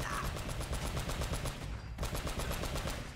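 Rapid automatic gunfire from the video game Uncharted: Drake's Fortune, a dense, loud burst of repeated shots running almost continuously with a brief dip partway through.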